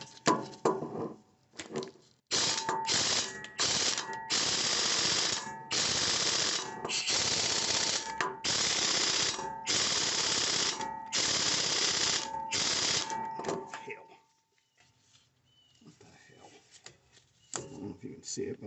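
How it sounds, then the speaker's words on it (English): An air impact wrench on a universal joint hammers at an 18 mm brake caliper bolt during a wheel hub replacement. About eight loud, close bursts of rattling come in quick succession, then it goes quiet with faint shop noise. "I'm going to try my air impact with a universal."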